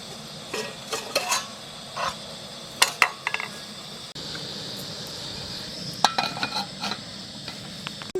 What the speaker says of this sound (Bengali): গ্যাসটা কমিয়ে দাও আর কড়াইটা চাপিয়ে দাও